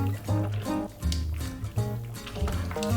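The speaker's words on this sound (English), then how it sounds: "Now give it a good stir." Pasta shells are stirred in a pan of water, making rhythmic sloshing and swishing strokes about every half second, close and fairly loud with no talking.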